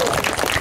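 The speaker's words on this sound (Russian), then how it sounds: "Аплодисменты!" Crowd applause at an amateur football match between Yutex and VNIIZZh in Kameshkovo, a short dense burst of clapping filling the clip.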